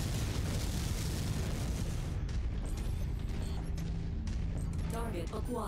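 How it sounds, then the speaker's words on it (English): Missile salvos fired by a King Crab mech in MechWarrior 5: a dense, loud roar of overlapping launches and blasts that thins out partway through, with game sounds continuing after. "Let's see if we can get some missiles out on this guy."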